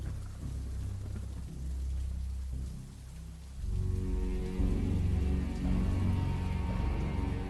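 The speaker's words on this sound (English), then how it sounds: "The sound of the rain thumping against the roof of the bus was almost hypnotic" Heavy rain drums steadily on the roof of a bus, a dense continuous patter that grows louder and fuller partway through, with low rumbling beneath and no voices.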